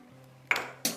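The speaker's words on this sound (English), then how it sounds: "We mix." Utensil striking a bowl while eggs with very yellow yolks are mixed: two sharp bright clinks in close succession, near and clear, with no talk.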